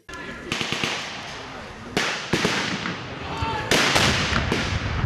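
Rapid bursts of loud gunfire and sharp blasts crackle in several clusters, with distant voices underneath, at an outdoor reenactment of a battle between UPA fighters and Wehrmacht troops.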